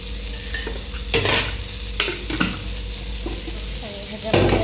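Washed moth beans sizzle in a little oil on a flat tawa. A steady close hiss is broken by several sharp scraping bursts as a spatula stirs the beans against the metal.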